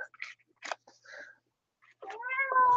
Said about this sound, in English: I'm pretending I didn't hear the cat.